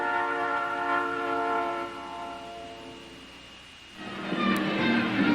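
A Southern Pacific railroad train sounds a long, chorded horn blast that fades away, then rolling train noise rises and grows louder near the end.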